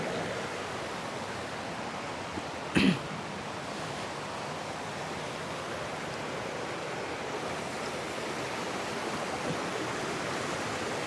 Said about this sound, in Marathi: हे असे एकावर एकावर एक असे सात कुंड आहेत आणि त्यातून पाणी खाली खाली पडत येतं आहे